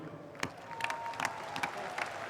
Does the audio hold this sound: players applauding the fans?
yes